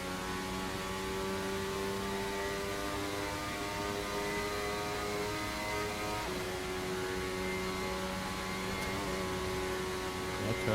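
A 2026 Formula 1 car running on its combustion engine alone after the electric motor's charge runs out, in Assetto Corsa: a steady, high, layered engine whine held at speed with a brief pitch dip midway, continuous and loud.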